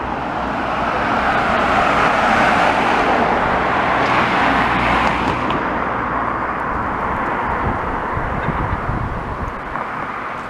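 Car traffic on the Central Prom seaside road near Rigby Road, a loud continuous road rumble as a vehicle passes close by, swelling in the first few seconds and easing slightly as it moves off.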